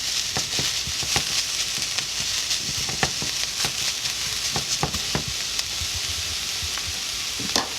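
Zucchini veggie noodles with oyster sauce sizzle steadily in a hot pan, with crackles and pops scattered throughout and no talking.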